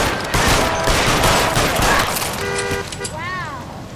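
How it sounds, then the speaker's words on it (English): Rapid bursts of firecracker-like popping crackle loudly through the first half of a scene in the crime game L.A. Noire, thinning out as a voice speaks and engine or horn tones rise near the end. "What's with all the firecrackers?"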